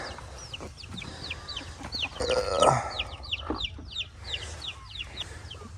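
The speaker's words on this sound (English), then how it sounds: "This is their chicken run." Chickens cluck and chirp repeatedly in their backyard chicken run, a busy overlapping chorus of short calls with one louder squawk midway, fairly close, no talking.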